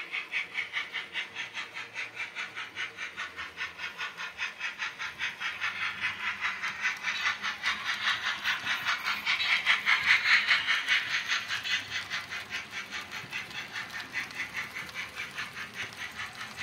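A Hobbytrain CIWL Orient Express model locomotive with digital sound gives a steady, close, rhythmic steam-style chuffing with a constant hiss, swelling a little midway and then settling, with no talking.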